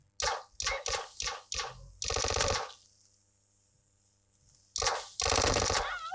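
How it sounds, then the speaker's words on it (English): Automatic gunfire in the battle royale game PUBG Mobile: a rapid string of short bursts, then a longer sustained burst, a quiet pause, and another loud volley, all close and punchy. "Keep shooting at me, dude."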